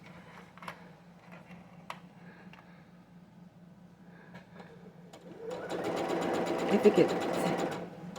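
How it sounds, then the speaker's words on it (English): A home sewing machine hums faintly under quiet talk, then runs on its own for a few seconds, stitching with a steady, loud mechanical whir. "There it goes. It's taking its own stitches."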